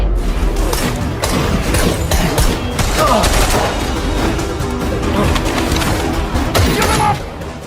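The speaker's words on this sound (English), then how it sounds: "Shiro arrives, and they start shooting at the gangsters" Dense gunfire from a shootout with gangsters crackles without pause, shots layered over crashes and a constant loud rumble, with voices faintly mixed into the chaos.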